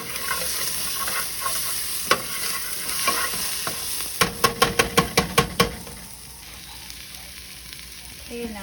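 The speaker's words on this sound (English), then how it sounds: "I just added in those mushrooms and stirred it." Mushrooms and shredded carrots sizzle steadily in a pan under a spoon stirring, with a quick burst of sharp knocks against the pan midway before the frying settles back to a softer hiss.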